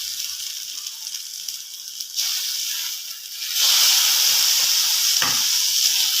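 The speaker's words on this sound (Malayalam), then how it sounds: "ഇതിലേക്ക് നമുക്ക് അരിഞ്ഞു വച്ചിരിക്കുന്ന ഒരു തക്കാളി ചേർത്ത് കൊടുക്കാം" Chopped tomato tipped into onions frying in a pan for egg roast, steady bright sizzle that swells louder midway and keeps hissing, with a brief clink of a utensil near the end.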